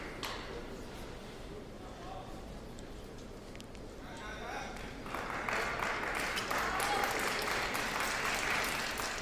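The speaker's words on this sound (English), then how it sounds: "The cheer from the crowd." Crowd at a US Open table tennis singles final breaks into cheering and applause midway, swelling louder under a commentator's ongoing talk.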